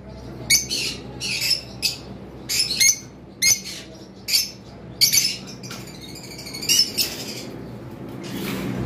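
Caged lovebirds and cockatiels, including a red-headed opaline pair and a white-face albino breeding pair, give repeated sharp squawks and chirps in quick bursts, loud and close with short gaps between calls.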